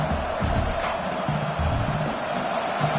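Dense, steady roar of a stadium crowd at a Trojans versus Tigers football game early in the contest, a broad continuous wash of many voices with faint swells of cheering, heard from a distance.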